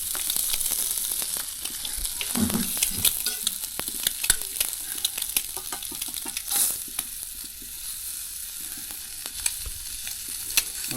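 Egg masala frying in oil on a wood-fired chulha, a steady crackling sizzle with scraping stirs and spatula clicks throughout, close and fairly loud.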